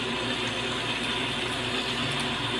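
Water gushes steadily and strongly from the tap of a water pressure tank, its rusty discharge now running clearer; a continuous, close, even rush with no pauses.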